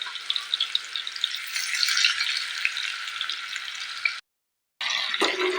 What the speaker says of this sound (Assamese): এতিয়া মই ইয়াতে আলু আৰু কঁঠাল কেইপিচ এইদৰে দি অলপ ফ্ৰাই কৰি ল'ম।